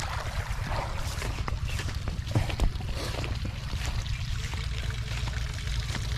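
Water from a hose pours and splashes steadily onto plants on a farm, a continuous close hiss with occasional small knocks.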